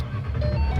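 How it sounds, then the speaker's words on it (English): A manual-transmission car's engine turns over and catches after the clutch is pressed and the key turned, a steady low rumble building slightly louder toward the end, close by with no talk. "Put in that clutch, turn that key."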